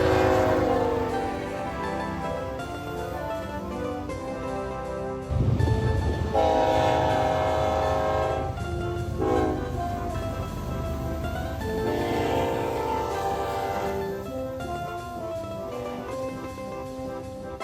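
A freight train rumbles past close by while its horn sounds several long blasts over the rolling clatter of the cars.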